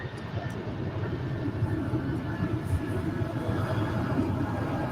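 An aircraft rumbles on runway 24 left at LAX, a continuous low, broad roar heard from a distance, steady throughout with no talking.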